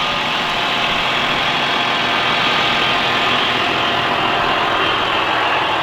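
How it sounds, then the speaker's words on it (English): A tractor engine rumbles steadily and loudly at idle or low revs, close by, with a constant droning hum and no voices. "We're teaching Michelle to be a tractor driver."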